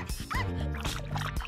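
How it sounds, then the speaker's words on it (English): A dog whimpers and yips in short, high-pitched bursts, fairly close and continuous over low background noise. "Suddenly, there was a noise in the bushes. Oh, a dog."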